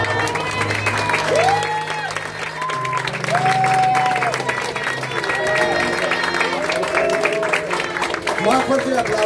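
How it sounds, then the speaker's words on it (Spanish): Applause and cheering from an audience at an improvisation contest final, sustained and loud across the clip, with a voice speaking over the clapping. "Más fuerte el aplauso para Peter Bonisa."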